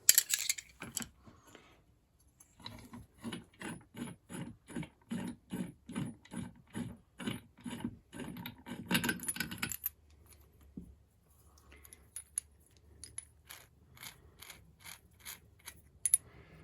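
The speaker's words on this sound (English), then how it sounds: "And that right there is a very good crankshaft puller." Crankshaft puller drawing a clone chainsaw crankshaft into its flywheel-side bearing, a run of evenly spaced ratcheting clicks and metallic cranks, close and crisp, followed by sparser scattered taps and clunks after a short pause.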